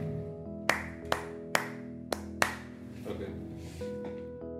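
Five separate sharp hand claps, spaced roughly half a second apart, ring out clearly over a quiet background hum, followed by faint indistinct voices.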